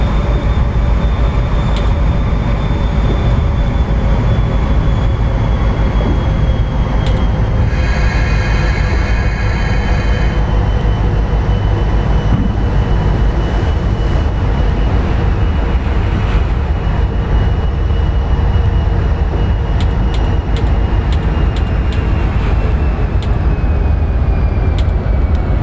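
A PRR Santa Fe Express train on a test run rumbles steadily and loudly throughout, with a constant low drone, a faint whine and brief higher rattling bursts partway through.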